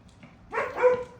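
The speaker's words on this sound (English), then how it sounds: "And my dogs are barking." Dogs barking indoors, a short cluster of one or two yips and barks that sounds somewhat distant and moderately quiet, with no speech over it.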